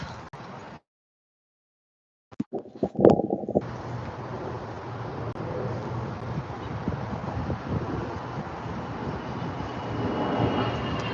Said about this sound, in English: We have more airplanes.